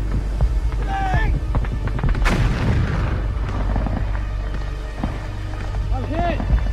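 A single sharp rifle shot cracks out in a dramatic recreation of the Iwo Jima battle, set amid rumbling combat noise and dramatic voices.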